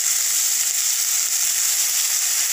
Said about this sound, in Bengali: অল্প একটু জল দিয়ে দিচ্ছি।